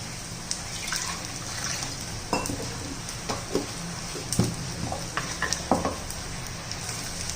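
Tomato and grated coconut roasting in a pan give a soft continuous sizzle with scattered crackles and light stirring scrapes, close and moderately quiet, no voices.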